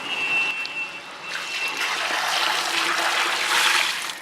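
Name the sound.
water poured into pot for turkey biryani rice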